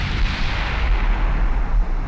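Warship guns firing in the naval battle game Ultimate Admiral Dreadnoughts, a loud, sustained booming rumble of heavy gunfire with deep low-end weight and no voices.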